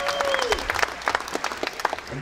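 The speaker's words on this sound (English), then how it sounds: "Round of applause for Dale Dickey." An audience at a movie world premiere Q&A applauds for actress Dale Dickey, a burst of dense, crackling clapping from a crowd that keeps going steadily, with some voices mixed in.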